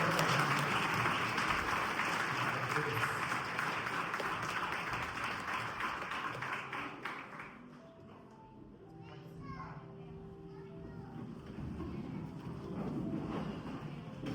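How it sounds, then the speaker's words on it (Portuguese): A congregation at a Sunday morning church service gives a round of applause to the Lord, dense clapping that fades after several seconds into children's chatter and voices in the room. "Dá uma salva de palmas para o Senhor"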